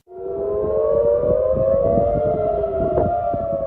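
A civil defense air raid siren wails across central Tel Aviv during a rocket attack, a loud, steady rising tone that holds without a break, with a second siren layered faintly behind it.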